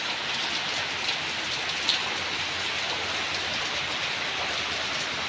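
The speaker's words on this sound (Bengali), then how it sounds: "চারিদিকে বৃষ্টি, সে কখন থেকে পড়ছে।" Heavy rain pours steadily outside a house, a dense, even hiss that stays loud and unbroken from start to finish, with no voices.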